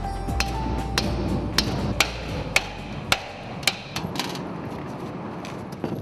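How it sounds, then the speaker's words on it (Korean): Hammer blows strike a solidified metal lump inside a bowl to knock it loose, giving sharp, ringing metallic hits at irregular intervals of roughly half a second, close up over a low background rumble. "그릇 안에 덩어리를 빼내기 위해 망치질을 한다."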